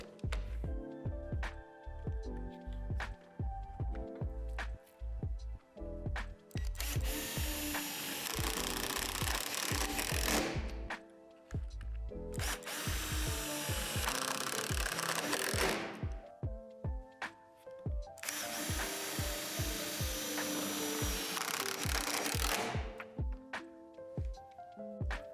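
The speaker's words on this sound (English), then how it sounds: "secure it with the self-tapping screws" A power drill drives self-tapping screws into the frame pad of an in-ground basketball hoop, with three long loud whirring bursts separated by short clicks and handling noise, close and steady, with no voices.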